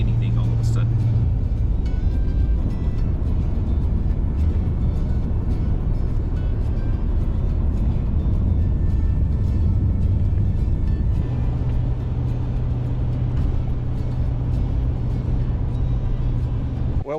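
A car drives on a snowy road in Alaska, and another vehicle passes it. A loud, continuous roar of engine and road noise lasts throughout, with a steady low hum underneath and a slight swell where the vehicles pass.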